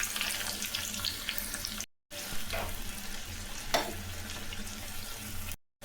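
Cumin and chopped small shallots frying in a pan give a steady, close hiss and sizzle with a few stirring scrapes, broken by two short gaps.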